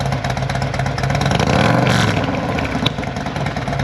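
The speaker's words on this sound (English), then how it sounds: "you can give it a little throttle" A motorcycle with aftermarket cams runs close and loud, its engine swelling briefly under a light twist of throttle before easing back to a rough, lumpy idle.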